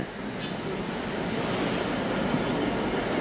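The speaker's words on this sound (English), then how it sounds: "Oh, a freight train." A freight train rumbles past a London Overground station in a steady, loud wash of rolling noise that builds slightly over a few seconds, with no one talking.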